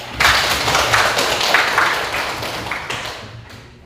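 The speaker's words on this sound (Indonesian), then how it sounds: "Tepuk tangan untuk" Audience applause in a classroom lesson at STK St Yakobus Merauke: a short burst of scattered hand claps and taps, fairly close, fading toward the end, with no talking over it.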